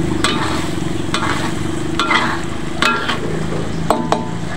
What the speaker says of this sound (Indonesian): Nah, aduk lagi.